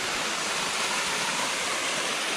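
A seven-tiered waterfall roars in a steady, dense rush of falling water, loud and close, with no letup and no talk.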